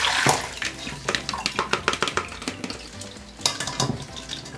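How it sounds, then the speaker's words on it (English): Water being strained from marinated chicken feet, with a run of quick wet splashing and rattling bursts, then a short pause and a second loud burst near the end, close and without talk. "After marinating in the fridge for 1 hour, take them out and strain out all the water."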